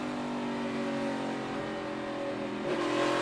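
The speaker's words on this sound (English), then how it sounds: "Kevin Harvick just playing with the throttle." NASCAR Sprint Cup race car at New Hampshire with worn rear tires, the driver feathering the throttle; a steady, mid-loud engine drone with small surges in revs and no voices.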